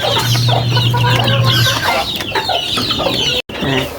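Sick baby chicks cheep and cluck close by in a busy, overlapping chorus of short high peeps, with a brief steady hum early on and a short dropout near the end.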